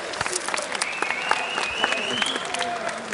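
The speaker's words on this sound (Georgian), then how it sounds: "მე მგონი ამ ორ ადამიანს ტაში უნდა დაუკრათ" Sustained audience applause fills a rap battle event, dense clapping with scattered crowd noise and a few whistles, steady and fairly loud throughout.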